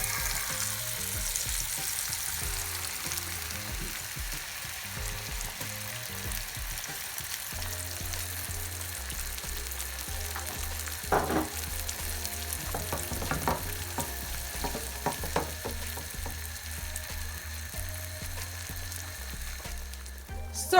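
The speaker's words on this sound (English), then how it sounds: "We are going to fry the egg." An egg fries in melted butter in a pan on the stove, a steady close sizzle and crackle running the whole time with a few sharper pops and scrapes near the middle, and nobody speaking.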